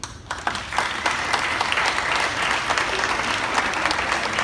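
A comedy club audience at the 9:30 Club claps in response to being asked whether they oppose spanking children, a steady wash of applause that starts after a brief pause and holds dense and even to the end.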